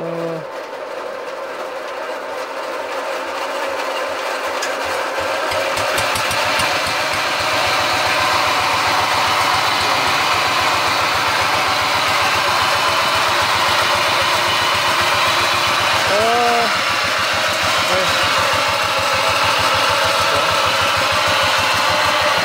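A Kubota S-series diesel engine cranks up and settles into a steady, loud idle with a rapid regular chugging pulse, running alone without its V-belt drive engaged.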